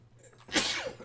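A single close, sharp human sneeze bursts out about halfway through, preceded by a brief faint intake of breath, over a low steady background hum in a quiet room.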